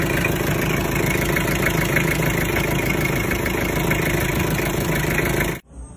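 A worn Mitsubishi L300 van engine with badly worn piston rings idles steadily with a rough, constant rumble and faint rattle, then cuts off abruptly near the end.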